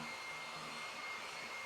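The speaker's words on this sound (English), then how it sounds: "I've got the advantage of having a hair dryer. And so I'm going to turn that on now and dry this thing." A hair dryer runs steadily to dry a watercolor painting in a studio, a faint, even, continuous whir and hiss with a slight tonal hum, with no talking.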